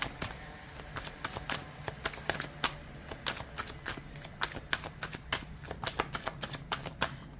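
Shosen Tarot cards being shuffled by hand: a steady run of crisp riffling snaps and flicks, close and fairly quiet, repeating throughout with no voices.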